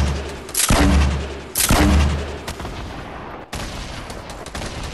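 Heavy gunfire booms in a VR shooter: two loud, close shots with long reverberant tails, followed by a quieter shot, all over a steady background rumble.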